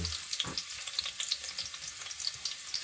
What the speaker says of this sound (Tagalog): And kapag mainit na siya, una nating ilalagay ay itong mga bawang na chinap-chop ko.